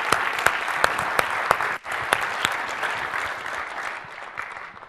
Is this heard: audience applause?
yes